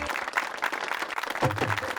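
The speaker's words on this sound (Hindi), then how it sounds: "तालियां।" Audience applause at an award celebration for Gungun, a short burst of clapping heard alongside voices for about two seconds.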